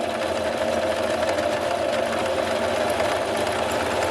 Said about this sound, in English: And we just want to stitch all the way just to the very edge, no stitches over.